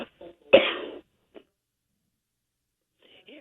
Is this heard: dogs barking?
no